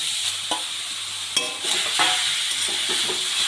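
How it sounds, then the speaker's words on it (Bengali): Grated carrots fry in hot ghee in a pan, a steady soft sizzle broken by close scraping stirs and a few sharp clinks of a utensil against the pan. "গাজরগুলো গ্রেট করে রেখেছি সেটা এর মধ্যে দিয়ে আমি ভেজে নেব।"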